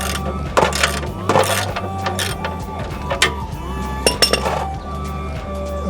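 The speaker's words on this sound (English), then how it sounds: "I'm loosening the oil bolt" A ratchet works an oil drain bolt loose, giving irregular metallic clicks and clinks in short bursts, close and fairly loud against a low mechanical hum.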